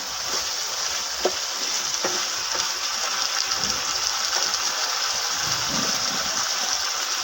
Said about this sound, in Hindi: देखिए बिल्कुल भून रही है, तैयार हो रही है।